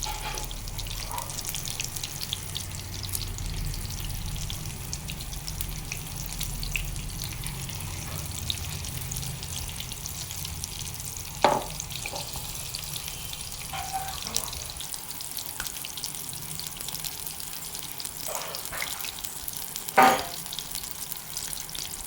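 Batter-coated chilli and raw banana bondas fry in oil with a faint, continuous bubbling sizzle, punctuated by a couple of brief clinks, and no talking.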